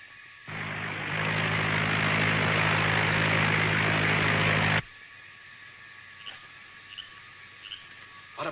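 A 1941 propeller airplane flying in to land, heard as a loud, steady engine drone that swells in, holds for about four seconds, then cuts off abruptly into quiet with faint scattered sounds.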